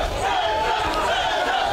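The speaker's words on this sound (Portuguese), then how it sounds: "E a torcida tá ali, ó." Football supporters at a stadium during a Série A match between Aquidauanense and Ivinhema sing and chant in unison. A continuous crowd roar with sustained tonal voices sits at a distance under the open air.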